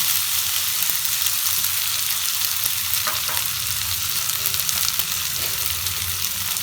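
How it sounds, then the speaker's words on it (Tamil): Chopped onion with ginger garlic paste and turmeric sizzling in a pan, a steady dense frying hiss with occasional soft stirring scrapes, close and continuous with no talking. "கொஞ்சமாக தண்ணி சேர்த்து இதை நல்லா ஃப்ரை பண்ணிடுங்க"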